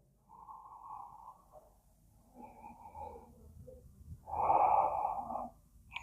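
Slow, deep breaths drawn in and let out while a yoga pose is held, soft and close, with a louder long exhale near the end and no talking.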